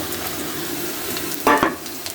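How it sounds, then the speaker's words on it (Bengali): Spices hitting fried, reddened onions in a hot pan give a steady, moderate frying sizzle, with a brief louder hiss and clatter about halfway through as more spices go in. "পেঁয়াজগুলো আমার লাল লাল করে ভাজা হয়ে গেছে। আমি দিয়ে দিচ্ছি আমার বাকি মশলাগুলো।"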